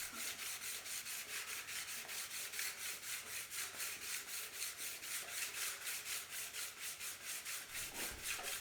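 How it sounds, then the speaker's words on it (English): Steady hand sanding on kit car headlight assembly parts in a garage, a continuous rhythmic rasping of quick back-and-forth strokes, close and fairly quiet, with no talking. "start sanding these"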